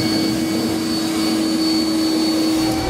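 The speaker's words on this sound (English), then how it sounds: "now we can use a vacuum to clean up our mess." A vacuum cleaner runs close by in a 2018 GMC Sierra pickup bed, clearing debris after drilling, with a loud, steady roaring whine that holds at one pitch throughout.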